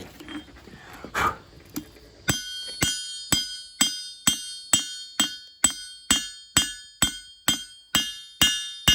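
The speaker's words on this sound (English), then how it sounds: "let's get it back on the anvil and see what we can do" A hot forged knife blade is hammered on an anvil in a rapid, even series of about a dozen loud, ringing metallic strikes, preceded by a few scattered clanks and shop noise.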